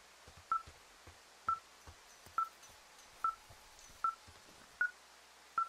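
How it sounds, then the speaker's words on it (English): Tracking device in the video game Firewatch giving short electronic beeps at an even pace, about seven in a row, clear and close, each followed by soft thuds of footsteps. "this thing is losing its mind, beeping like crazy"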